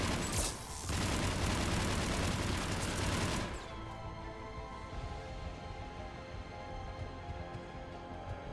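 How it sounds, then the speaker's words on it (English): A grenade blast in Mass Effect 3 Legendary Edition: a loud, dense roaring burst of crackling fire and explosion lasting about three seconds, then cutting to a quieter rumbling aftermath with scattered mechanical tones. "Fucking grenade!"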